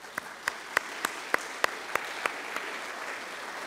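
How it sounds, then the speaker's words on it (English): Sparse, slow clapping at a user-group meeting, about ten evenly spaced single claps, faint and distant, with the last few fading out. "Take a second here to maybe give him a round of applause."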